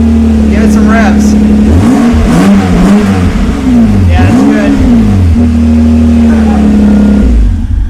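Close and loud, a Lexus SC300 running without mufflers is revved repeatedly, its unmuffled engine rising and falling in several quick sweeps before settling into a steady idle.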